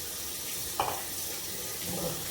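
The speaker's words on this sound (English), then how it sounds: "Let me wash my hand." Water runs steadily from a kitchen tap as hands are washed at the sink during cooking, a close, even hiss with a few faint splashes and no voices.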